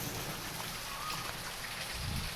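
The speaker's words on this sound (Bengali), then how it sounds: "এত বৃষ্টি হচ্ছে" Heavy rain falling and pattering on a rooftop and window, a continuous soft hiss at moderate distance.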